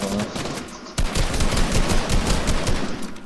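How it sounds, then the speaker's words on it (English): Rapid, dense automatic gunfire from another player in Fortnite, loud and continuous bursts that intensify after a brief lead-in. "Is that you shooting?"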